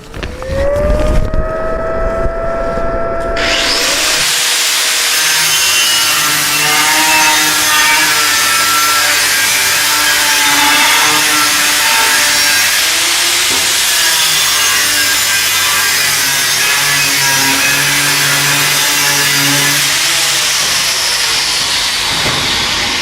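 A TYROLIT CERABOND X disc first spins up with a whine, then bites into a 4 mm stainless steel plate. The cut is a loud, bright, continuous hissing grind that lasts steadily for about twenty seconds, close by with no voices.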